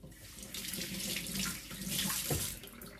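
Running tap water splashes steadily into a sink as taro leaves and other vegetables are washed, a close, continuous gushing with small shifts as the stream hits the produce, and no talking.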